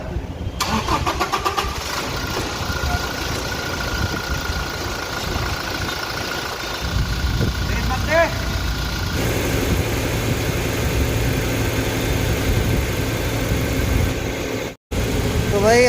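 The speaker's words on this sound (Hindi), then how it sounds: "आप जैसे देख सकते हैं गाड़ी अभी भी स्टार्ट है" A Toyota Innova Crysta in for clutch replacement at a service garage, its engine idling with a steady mid-pitched rumble, close and continuous, with workshop clatter and brief shifts in tone.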